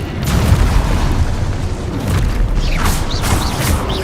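In Hogwarts Legacy, an Expulso spell explodes as a loud, dense burst of booming blast noise that keeps rumbling, with sharp crackling debris-like pops near the end.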